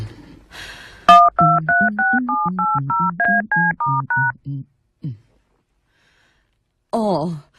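A telephone number is dialed, giving a quick run of about a dozen distinct tone beeps in an irregular rhythm, loud and close, after a brief breath and followed by a short vocal sound.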